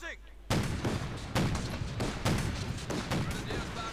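Machine gun bursts from an MG34 in the World War II strategy game Company of Heroes 2, four loud sustained rattling volleys spaced about a second apart after a brief quiet start.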